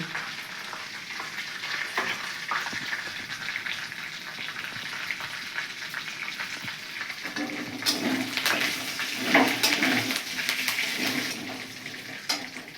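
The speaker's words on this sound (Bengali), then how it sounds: "এলাচ লবঙ্গ দারুচিনি দিলাম দুটো করে মরিচ দিলাম গোটা পাঁচ ফোড়ন দিলাম" Whole spices, bay leaf, cardamom, cloves, cinnamon, dried chillies and panch phoron tempering in hot oil in a kadai, a continuous sputtering sizzle that swells louder toward the end, with no talk.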